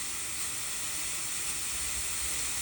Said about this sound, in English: now the device is steaming, but as you can hear, it's not sucking air